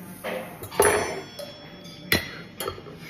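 Glasses clink together in a toast over an anniversary lunch, with a few sharp, bright taps spread across a quiet room and no talk over them.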